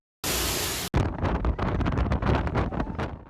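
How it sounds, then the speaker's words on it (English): A strong storm with wind and rain at a rooftop in Nashville: a burst of dense roaring noise, a brief cut, then continuous loud blustery wind buffeting the microphone with gusting rushes. "The rain and wind feel like a hurricane right out of Florida."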